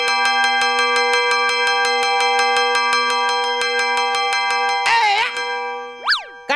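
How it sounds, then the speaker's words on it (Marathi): A small hand bell rings in rapid, even strokes for several seconds. It is loud and close, and is followed by a short warbling tone and a pair of springy boing-like sweeps. "काय घंटी वाजाडतो रे"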